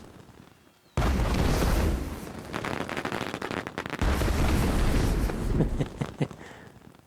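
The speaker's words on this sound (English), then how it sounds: "So just a massive barrage of fireworks." A fireworks finale barrage in Disney Infinity 3.0 opens with a sudden loud burst, then a dense rumbling stream of booms and crackles that swells again midway before thinning out into scattered pops.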